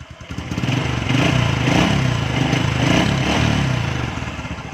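A freshly rebuilt Honda Wave 125 motorcycle engine, still missing some screws, revs up and runs with a low throbbing putter and faint rattles, rising and falling slightly over a few seconds.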